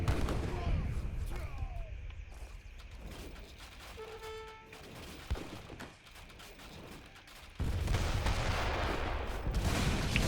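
Mortars firing at buildings during an Age of Empires III: Definitive Edition 2v2 match between Lakota and Dutch, heard as a continuous din of booms and gunfire with a brief ringing impact partway through.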